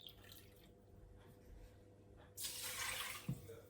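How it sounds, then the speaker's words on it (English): Water is poured into a dish of rinsed rice for sushi rice, a soft, close splashing stream that starts partway through after quiet room hiss. "and then you put 330 grams of water."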